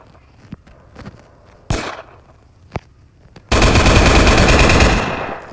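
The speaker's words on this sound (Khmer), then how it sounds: "ឥឡូវខ្ញុំធ្វើការហាត់បាញ់" Video game shooting practice at a range produces scattered single gunshots, then one sharp report and a long continuous burst of rapid automatic fire that sounds loud and close and fades slightly at the end.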